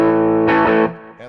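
An electric guitar on its bridge humbucker pickup rings out a sustained distorted chord, then a brief strummed accent, loud and close with no voices.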